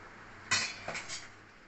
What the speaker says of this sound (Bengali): কড়াই বসায়, কড়াইতে তেলও দিয়ে দিচ্ছি